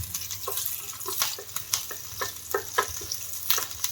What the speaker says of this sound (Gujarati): આ મરચાં 1 મરચાંના ઝીણા ઝીણા કટકા કરેલા છે એ મરચાંને સેજ આપણે સાતળવાના છે